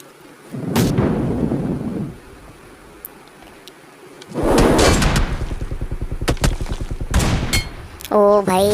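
Bursts of BGMI gunfire, loud and close, with several rapid shots and a quieter gap between volleys, ending in a short electronic tone.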